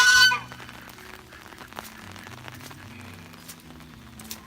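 Fowl and geese cluck and honk in a soggy yard after two days of rain, a faint, rambling chorus of overlapping calls at moderate distance, with a short louder burst at the start and no talk.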